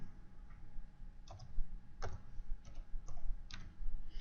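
A code typed on a computer keyboard, heard as a handful of separate, distinct clicks over a low background hum with no one speaking.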